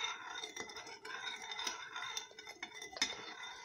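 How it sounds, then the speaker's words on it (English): Grated ginger stirred into a cup of water with a utensil, a steady run of light scraping and clinking against the container, close and fairly quiet with no talk. "Then you have to stir this for some time"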